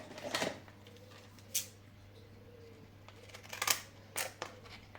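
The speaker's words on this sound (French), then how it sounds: "Tiens, on va faire une découpe comme ça." Scissors cutting scrapbooking paper at close range, several crisp snips in irregular bursts separated by quiet pauses, with a faint steady hum underneath.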